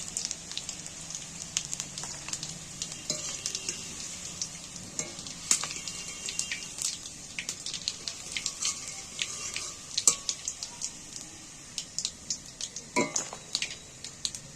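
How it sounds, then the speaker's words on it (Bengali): Steady oil sizzling as fish roe fries over low heat, with scattered sharp crackles and pops, plus occasional light clinks of a utensil against the pan. "আস্তে করে জাল দিয়ে একটু সময় ধরে ভাজা হচ্ছে"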